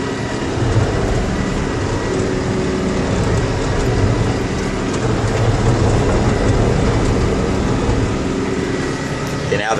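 A forklift-type loader runs outdoors close by, its engine a loud, unbroken, grinding rumble with a broad mechanical drone that holds steady throughout.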